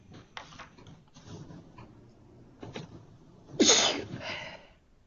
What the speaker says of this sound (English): No sneezing in class.